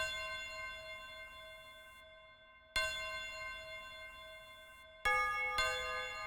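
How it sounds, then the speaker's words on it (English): A bright synthesized bell in an FL Studio drift phonk beat strikes three times, each hit ringing with clear sustained tones that slowly decay, the later hits coming closer together, with no voices. "So with that being said, I added in a bell."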